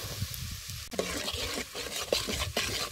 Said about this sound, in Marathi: आता हे तेल चांगलं कडलंय ह्याच्यात एक 2 पळ्या चटणी टाकायची